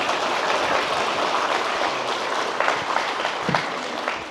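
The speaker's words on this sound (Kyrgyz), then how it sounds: "Кол чаап кой" An audience claps at a religious talk in Kant, a dense, steady patter of many hands close by that holds for several seconds, with a few sharper claps standing out near the end.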